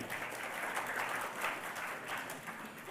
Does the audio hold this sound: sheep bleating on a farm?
no